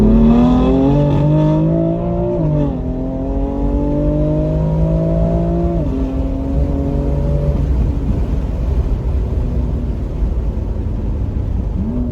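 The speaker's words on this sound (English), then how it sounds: "do some kind of full throttle shifts and get an idea if you can hear the difference" A BMW F82 M4 with an Active Autowerkes mid-pipe roars under full throttle in second gear, pitch climbing steadily, dropping sharply at each gear change, then climbing again, loud and continuous.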